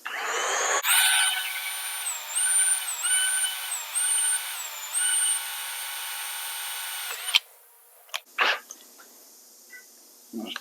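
A power drill with a 3/16 bit bores into an MGB engine block, whining loudly and steadily with pitch dips as it loads, then stops, followed by a few clunks and handling noises.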